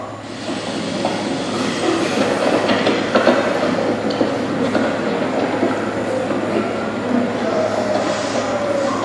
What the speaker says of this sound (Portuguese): E o metrô lá funciona assim, ó.